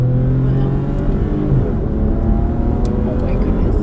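An Audi car engine revs during a test drive, a steady loud drone with rising and falling pitch heard from inside the car, with a person talking over it.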